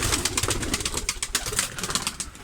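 Pigeons cooing and fluttering close by on a balcony in the rain, with soft wing flaps and scuffling mixed into a steady murmur of bird sounds.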